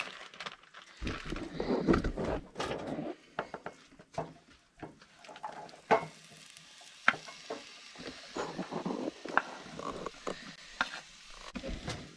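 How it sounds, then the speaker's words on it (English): Peppers, asparagus, mushrooms and onions cooking in a pan inside a canvas hot tent on a winter camping trip, soft sizzling broken by scattered utensil scrapes and clacks against the pan, close and moderately quiet. "right now I'm cooking all the veggies, and we also added some onions"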